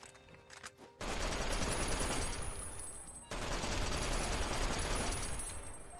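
Sustained, loud gunfire in a video game, a dense continuous volley that starts abruptly after a quiet moment and carries on with a brief break midway.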